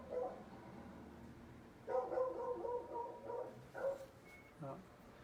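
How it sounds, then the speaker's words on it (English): Dogs barking in short clustered bursts, fairly faint and some distance off, followed by a couple of isolated yips. "the dogs must really like that subject because they're barking again"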